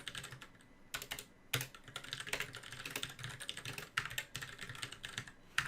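Close, quiet clatter of a computer keyboard as code is typed, with irregular runs of keystrokes and occasional sharper key hits, no voices.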